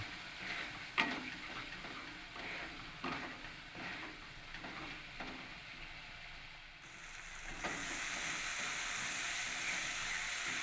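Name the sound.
frying ground spices in oil for masala paneer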